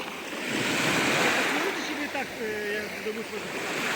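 Steady sea surf roars at close range, waves washing continuously, with a voice speaking briefly over the rushing water, on an Italian beach in +40 heat.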